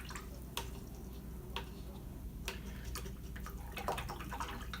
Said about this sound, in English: clean off my brush.